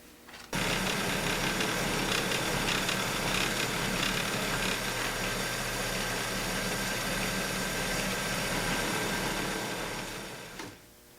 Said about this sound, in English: Here at the drill press, we're going to drill countersink holes in the runner material approximately every 2